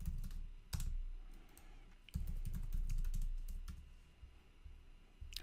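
Code being typed on a computer keyboard, a fast uneven run of crisp key clicks with a few heavier strikes, close and clear with no talk.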